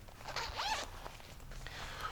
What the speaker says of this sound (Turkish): O yüzden rahat giyip çıkması için şurada fermuar yapmışlar.